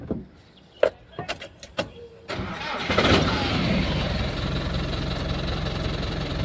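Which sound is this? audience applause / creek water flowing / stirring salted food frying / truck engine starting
truck engine starting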